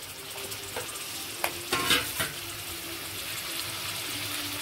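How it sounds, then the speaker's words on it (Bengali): Mutton pieces dropped into hot fried spice paste in a pan, giving a few sharp sizzling bursts and a scrape of stirring over a steady background hiss, close by with no talking. "এবার মাংসটা চলে যাবে এর ভিতরে"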